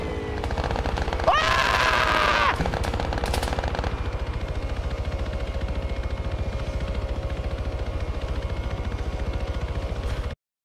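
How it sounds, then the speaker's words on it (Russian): An attack helicopter approaches in the military video game Arma 3, its rapid rotor chop pounding loud and steady throughout, with a brief siren-like whine rising over it early on. "Это за мной боевой вертолет летит."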